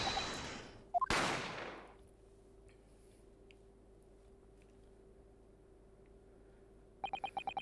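Gunshot sound effects from the Great Ace Attorney Chronicles video game: two sharp loud cracks in quick succession at the start, then a quiet steady hum, and near the end a rapid series of short bright pulses.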